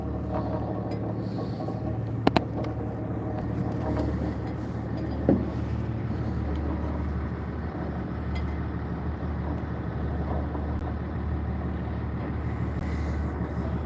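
Aboard a salmon gillnetting boat in Alaska, an Isuzu inline six-cylinder diesel engine rumbles in a deep, steady drone throughout. A couple of sharp knocks break through briefly along the way.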